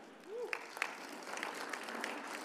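An audience at a university leadership and service awards ceremony applauds, a soft, steady wash of clapping from a crowd at some distance, with a couple of sharper claps near the start.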